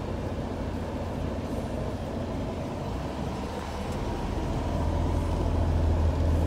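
Class 1 truck air brake compressor in loading stage, building pressure from 100 PSI as the gauges rise: a steady low engine-driven rumble and hum, close and continuous, growing slightly louder toward the end, with no talk.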